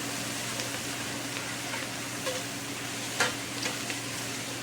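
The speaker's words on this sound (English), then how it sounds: "so it's time to add our garlic. Alright, we're going to saute that for a few seconds" Garlic sautés with sausage and onions in a pan, a steady soft sizzle under occasional scraping stirs, close and fairly quiet, with no talking.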